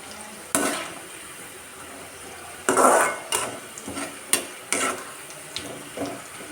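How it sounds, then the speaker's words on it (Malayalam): Bitter gourd slices fry in hot oil with a soft continuous sizzle, punctuated by several distinct clinks and scrapes of stirring in the pan. "ഇതിങ്ങനെ നന്നായിട്ട് ഇളക്കി കൊടുത്തുകൊണ്ട് വറുത്തെടുക്കണം"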